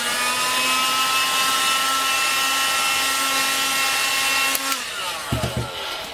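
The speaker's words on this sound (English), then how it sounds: "So grab your heat gun." A heat gun blows hot air over vinyl wrap corners as a steady, loud whine with a constant pitch, shutting off near the end, followed by a few soft handling knocks.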